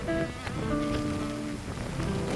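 Rain falls outdoors near a church in Ireland, a steady close patter with faint tonal sounds drifting in the background.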